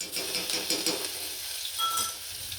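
Cumin, carom seeds, green chilli, asafoetida and ginger crackle in hot oil in a pot for guvar beans, giving a continuous close hiss with light stirring scrapes and no talk.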